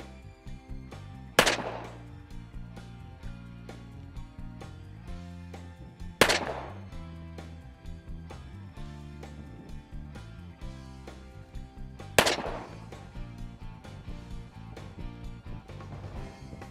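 Three sharp gunshots from a low-recoil firearm at a shooting range, spaced several seconds apart, each a loud crack with a short ringing decay over quiet background.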